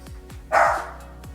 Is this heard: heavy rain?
no